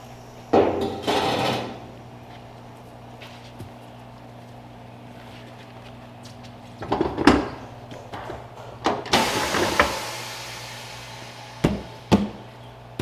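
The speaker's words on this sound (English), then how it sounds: "So let's dismount this tire." A tire changer machine dismounts a tire from a clamped wheel, producing scattered clanks, thumps and scraping bursts of varying loudness between quieter stretches with a low mechanical hum.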